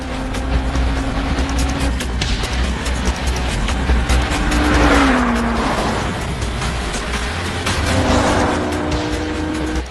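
Race cars, a Lotus and an Alfa Romeo, battling on track with engine drone rising and falling, gear shifts and passing whooshes, loud and continuous.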